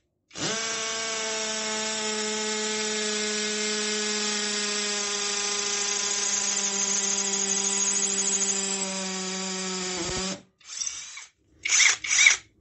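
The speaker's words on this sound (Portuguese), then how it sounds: "Função de perfuração com impacto, broca número 8." A hammer drill in impact mode with an 8 mm bit bores into a masonry wall, whining steadily at high speed for about ten seconds, then stops and starts again in a few short bursts.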